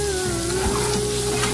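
Tadka spice paste sizzles and fries in a hot pan, a continuous loud crackling hiss with a steady tone running through it and no talking.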